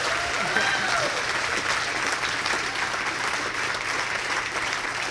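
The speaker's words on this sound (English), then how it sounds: "Another big round of applause for these guys, the best handlers anyone could ask for." Sustained applause from a banquet audience at a sled-dog race finish celebration honoring the handlers, dense steady clapping filling the room for five seconds with a brief voice faintly under it early on.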